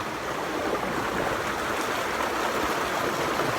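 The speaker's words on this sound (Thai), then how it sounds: "นี่ก็เป็นน้ำตก" A waterfall and stream rushing through a Swedish forest, a steady, close, full-bodied roar of water that holds even and unbroken throughout, with no voices.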